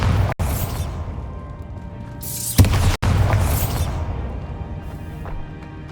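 Bombarda blasting spell cast in the Hogwarts Legacy video game, heard as heavy booming bursts over a steady game backdrop, with two sharp loud hits and sweeping whooshes around them.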